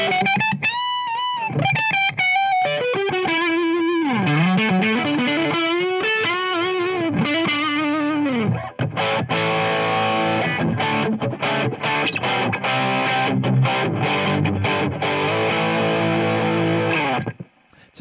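Heavily distorted Peavey AT-200 electric guitar through a cranked Marshall JCM 800 tube amp, loud and continuous, melodic lead lines giving way to chunky sustained chords, with a thick overdriven tone throughout.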